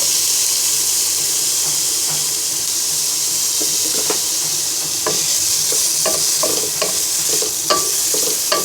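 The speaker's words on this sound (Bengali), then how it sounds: "ঘিটা গরম হয়ে গেলে 1 কাপ পরিমাণ পেঁয়াজ কুচি দিয়ে দিব।" Chopped onion fries in hot ghee in a pot, giving a loud, constant sizzling hiss, with scattered scraping clicks from stirring growing more frequent in the second half.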